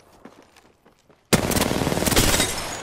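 Automatic gunfire in Apex Legends erupts suddenly after a quiet stretch of faint steps and bursts into a loud, sustained rapid volley.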